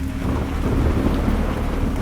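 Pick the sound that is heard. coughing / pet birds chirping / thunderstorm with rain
thunderstorm with rain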